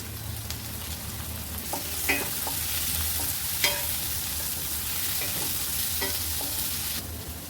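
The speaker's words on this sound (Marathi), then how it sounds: "कांदा चांगला फ्राय करून घेऊया कांदा चांगला लाल झाला टोमॅटो टाकून घेऊया" Onion and tomato frying with curry leaves in a pan for a beetroot dish, giving a continuous loud sizzle broken by repeated light scrapes and taps of a spoon as it is stirred, with no one speaking.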